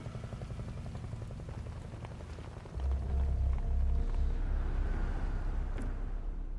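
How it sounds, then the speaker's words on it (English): Steady rain patters and hisses throughout, growing heavier partway through, with a low rumble beneath and no voices; blood-red rain in Metal Gear Solid Delta: Snake Eater. "Why is it raining blood?"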